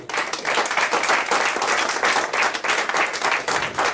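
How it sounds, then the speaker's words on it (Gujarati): An audience at a World Book Day talk applauds to honour the speaker Ashvin Desai, giving steady, dense clapping that stays strong and even for the whole stretch. "એમને આપણે તાળીઓના ગણગણાટ વધાવીએ"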